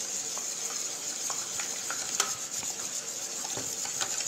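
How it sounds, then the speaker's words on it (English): A whisk stirring canned dessert cream into a mixture for a rose and pistachio falooda pudding, a steady close scraping swish with light clicks against the bowl, running continuously with no voices. "And then just whisk everything together."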